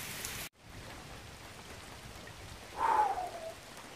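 Steady rain falls on a hiking trail, a soft, even patter at low level. The sound briefly drops out near the start, and a short tonal noise swells in the background about three seconds in.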